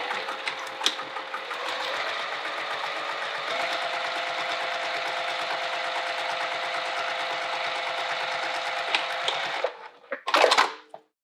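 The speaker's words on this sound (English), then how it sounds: "we're going to top stitch across here." A sewing machine top stitches across a fabric mini wallet in one steady, even run of about nine seconds, then stops, followed by a short burst of handling noise at the end.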